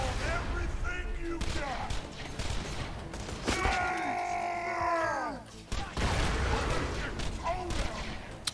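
Gunfire and grenade blasts in the shooter game Borderlands, with repeated loud bangs and crackling shots throughout and a burst of ringing synthetic tones in the middle.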